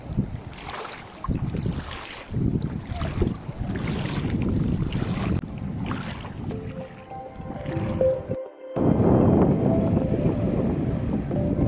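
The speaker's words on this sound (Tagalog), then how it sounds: "Guys, yun yung alon, ang lakas." Strong sea waves surge and wash along the rocky shore at Lian, Batangas, a loud, continuous roar with wind buffeting the microphone and no voices.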